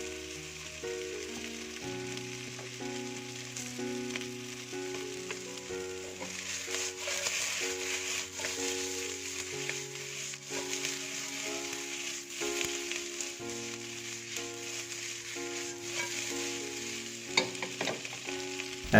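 Salt and pepper tofu stir-fried with green onion, a steady close sizzle with scattered stirring clatter, heard under soft background music with sustained tones and without talking.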